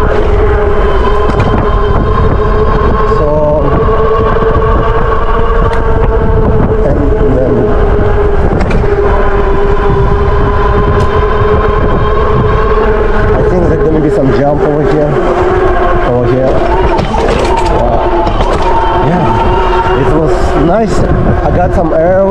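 A Raev Bullet GT dual-battery electric bike accelerates outdoors, its steady motor whine rising under heavy wind buffeting across the microphone, with tire and road rumble throughout.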